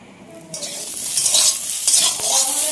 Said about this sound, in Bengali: আলু ভাজা কমপ্লিট